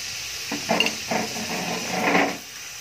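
Mung bean sprouts sizzle in hot oil in a pan as a low-carb dish cooks, with a steady frying hiss and a few soft stirring clatters near and moderately loud.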